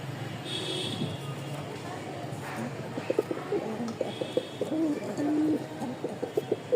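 Pigeons coo softly in the background while someone talks over them, with faint wing and shuffling noises nearby.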